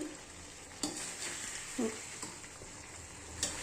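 Mutton frying in a pan, a quiet steady sizzle with a few faint scrapes and clicks of stirring, close and without talk.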